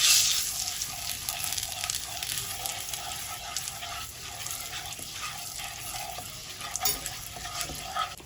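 Half a spoon of Kashmiri chili powder sizzles in hot white oil in a kadai, a steady close-up frying hiss with light stirring throughout and no talk.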